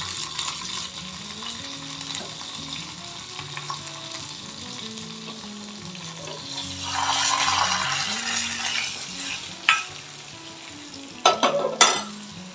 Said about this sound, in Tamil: கடுகு, உளுத்தம்பருப்பு, வரமிளகாய் போட்டு பச்சடியை தாளிச்சிடலாம்.